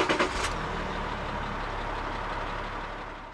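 A 2004 Renault Vel Satis 3.0 V6 dCi diesel cranks briefly and catches, then settles into a steady, moderately loud idle hum that slowly fades.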